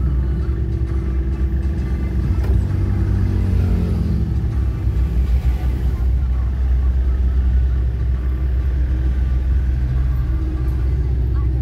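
Busy street traffic of cars and taxis in Baguio, a low steady engine rumble with passing vehicles, heard under people talking nearby.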